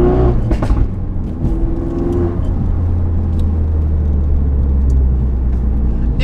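A Mercedes AMG GTR Pro, a rear-wheel-drive sports car, delivers a loud, close engine rumble with a sharp rev burst at the start, then a steady, heavy drone that holds for several seconds.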